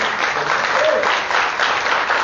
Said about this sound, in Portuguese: uma salva de palmas a Deus, por favor